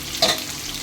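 Papaya pieces frying in oil, a brief sizzle with one sharp spoon clink near the start, short and close.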